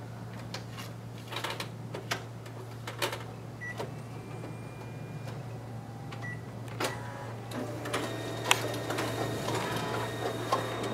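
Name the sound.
Konica Minolta Bizhub copier document feeder feeding pages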